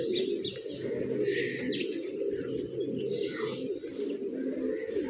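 A flock of young pigeons on a flight, cooing softly and steadily amid chirps, with faint wing flutters and a constant outdoor hum underneath.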